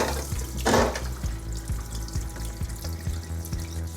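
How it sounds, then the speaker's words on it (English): Cold tap water runs steadily into a kitchen sink over a hot pressure cooker, a continuous splashing stream with a brief louder gush near the start. "put cold water over it,"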